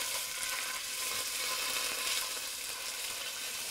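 Tomato paste sizzles in a pan alongside garlic and anchovy, a steady close bright hiss of frying that holds evenly without pause and with no voices.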